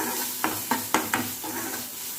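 Ground onion paste sautéing in a pan for egg masala, a soft continuous sizzle broken by four sharp spoon strokes against the pan in quick succession, then quieter stirring.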